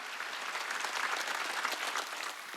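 Congregation applauding during a Wednesday worship service at a Korean church, a steady dense wash of clapping from many hands, filling the hall at moderate level without a break.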